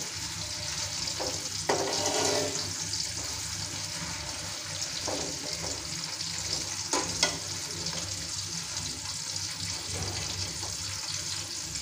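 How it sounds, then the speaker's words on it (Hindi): Sliced onions fry in oil in a pan until brown, giving a steady, dense sizzle throughout with occasional stirring clatter, close and continuous. "प्याज हमारा फ्राई हो चुका है"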